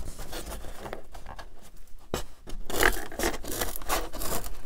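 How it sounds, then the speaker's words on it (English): Large craft scissors chop through a sheet of foam board in a few quick, scratchy, rasping cuts, close and fairly loud, with no talking. "I use large craft scissors just so I don't have to make too many cuts, and just go ahead and chop a piece off."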